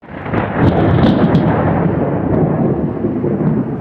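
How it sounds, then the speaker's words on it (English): Loud, sustained rumbling thunder from a lightning storm during hurricane season, a deep continuous roll lasting several seconds with a few sharper cracks near the start, heard alone without any voices. "as you just heard, we are having some crazy lightning right now."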